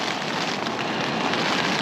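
Rain pattering on a tent during a wild camping night, a thick unbroken hiss of drops striking close overhead, even and loud throughout.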